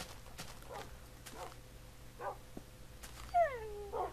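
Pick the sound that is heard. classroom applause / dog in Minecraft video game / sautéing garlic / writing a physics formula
dog in Minecraft video game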